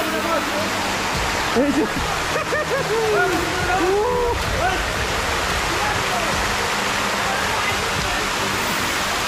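Rushing water pours without pause at a secret waterfall in Hailakandi, loud and close, while voices talk briefly over it.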